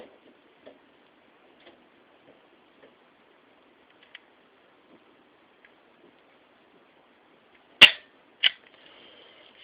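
A Smith & Wesson 915 pistol fired twice in quick succession, two sharp loud reports after a long stretch of faint ticking and quiet handling.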